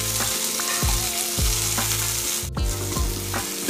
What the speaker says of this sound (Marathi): आपली शिमला मिरची देखील इथे छान अशी फ्राय झालेली आहे.